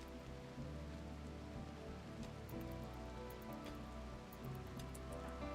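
Rain falls in the video game RimWorld as a steady, even hiss of drops on a surface with faint low rumble, constant and moderately quiet throughout with no talking.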